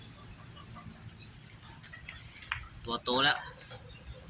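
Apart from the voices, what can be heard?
bantam chicks hatched from an incubator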